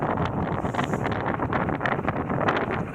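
Steady wind gusts across a sailboat motoring straight upwind on open water, roaring loud and close with constant buffeting and no voices.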